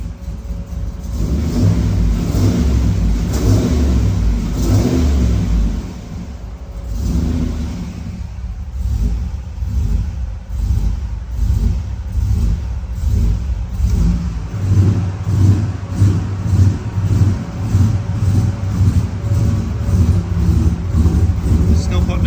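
A turbocharged six-litre car engine on its first fire rumbles loudly nearby, revving up and settling back to a lumpy, pulsing idle; voices talk over it.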